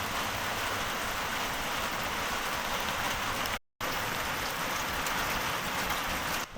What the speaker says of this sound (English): even though it's pouring down rain